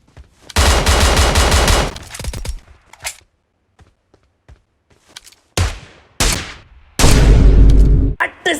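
Loud bursts of automatic gunfire in a video game, several rapid volleys separated by near-silence with occasional single shots, close and harsh.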